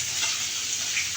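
Chopped onion sizzles in a pan for curry, giving a steady, close hiss of frying that lasts the whole brief moment.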